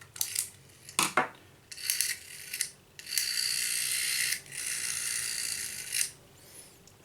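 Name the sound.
screwing Trimphone finger wheel back into place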